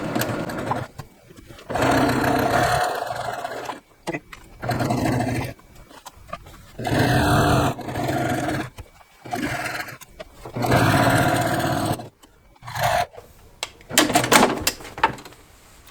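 A sewing machine stitches a seam between two stitch lines on a quilted patriotic table topper, running in repeated bursts of a few seconds each, separated by short pauses.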